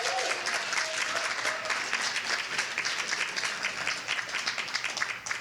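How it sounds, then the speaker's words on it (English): A room full of people at a summit in New York applauds a speaker steadily, a dense wash of clapping that holds at an even level throughout. "let's give her another round of applause"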